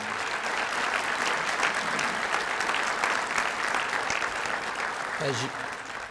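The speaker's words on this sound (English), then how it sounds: "I'd love for us to give Chief Stawinski, the command staff, and the men and women who have trained you a round of applause again." Audience applause at a Prince George's County police academy graduation ceremony, a sustained dense wave of clapping filling the hall for about six seconds, with a voice briefly rising near the end.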